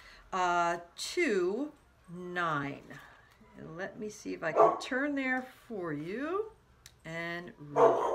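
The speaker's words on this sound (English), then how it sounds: "sorry about the dogs" Dogs bark and yip indoors in a room, loud, sharp bursts mixed in with and partly overlapping a person speaking throughout.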